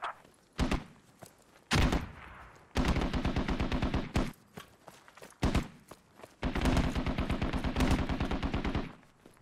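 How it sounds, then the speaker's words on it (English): Repeated bursts of gunfire in a military shooter video game, including sustained automatic fire and single shots, loud and close, with several rapid volleys separated by brief pauses. "Start shooting, start shooting."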